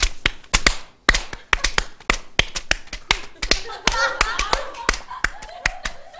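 Sparse, hesitant hand claps from a small studio audience on a Korean live comedy show ring out as sharp, separate claps with uneven gaps. A few voices murmur between them.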